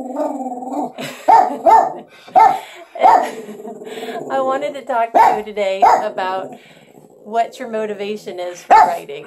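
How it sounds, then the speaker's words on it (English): Two border terriers bark, yip and growl close by in repeated bursts, mixed in with someone talking steadily over them. "because you can hear the barking."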